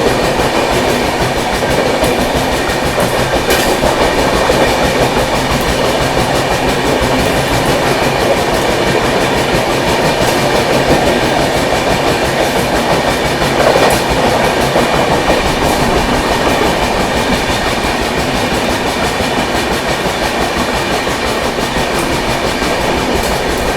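Rajdhani Express (22221 CR) runs at speed overtaking the Jabalpur–Hazrat Nizamuddin Mahakaushal Express, with loud continuous rumble and rhythmic clickety-clack of wheels on rail joints heard from on board throughout.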